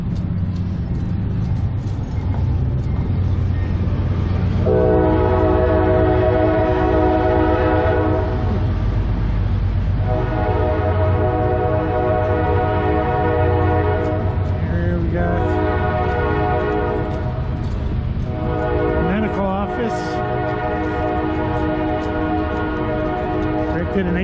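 A train rumbles past a street in Jonesborough, Tennessee, sounding several long, loud horn blasts over its steady low roll and passing traffic noise.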